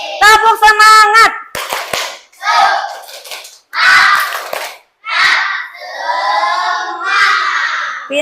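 Schoolchildren in an Indonesian classroom do a rhythmic clapping chant, loud bursts of hand claps mixed with shouted voices, in short groups separated by brief pauses.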